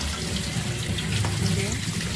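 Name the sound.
tap water washing onion greens in a sieve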